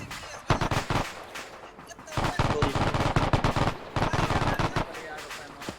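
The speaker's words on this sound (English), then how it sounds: "Machine gun fire going up the hill." Machine gun fire in the Arma 3 military game, with rapid loud bursts of automatic shots in several clusters, separated by brief pauses.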